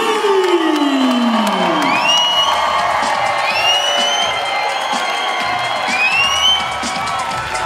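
Loud crowd cheering with whoops and shouts at a WFC 31 mixed martial arts event at the Belle of Baton Rouge, sustained for several seconds after a knockout win.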